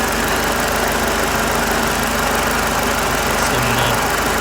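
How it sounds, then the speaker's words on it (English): A Mercedes SLK R170 engine idles in park, giving a steady, continuous low rumble with an even mechanical hum throughout and no voices. "Okay, engine's running, we're in park."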